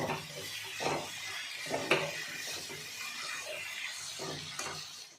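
A metal spoon clinks and scrapes in a pan on a gas stove as food is fried and stirred, giving a few irregular, fairly quiet clatters with a faint sizzle beneath.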